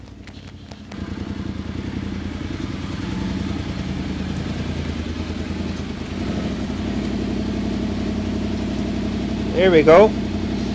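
Yamaha Tenere 700 motorcycle fitted with a rally tower, its engine idling with a steady mid-pitched rumble throughout, close by, with a short revving rise near the end and someone talking briefly.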